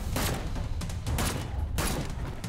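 Gunfire in the crafting VR shooter Seeking Dawn, three loud sharp bursts of rapid shots, each a short fusillade separated by brief pauses, close and dominant.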